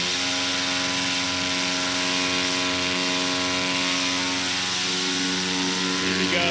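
A STOL aircraft's engine and propeller drone steadily and loudly through a takeoff run at a competition airfield, a continuous harmonic roar that holds and builds slightly toward the end.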